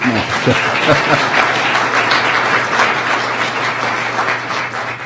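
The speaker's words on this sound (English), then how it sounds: "Let's go ahead and do the individual applause" An audience at a Sarpy County employee recognition event applauds a Core Values award winner, loud continuous clapping from a roomful of people, with a brief voice at the start.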